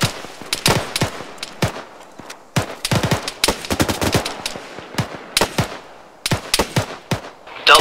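Repeated loud, close bursts of machine gun fire from the video game Arma 3 during a UK military-simulation co-op firefight, with rapid rattling volleys separated by short pauses and some overlapping distant shots.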